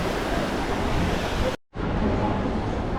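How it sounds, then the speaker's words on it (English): A small water fountain splashes steadily in a town plaza in Villamartin, a dense continuous wash of falling water that cuts out for a moment before resuming, with no talk over it. "Got a little bit of a water fountain here."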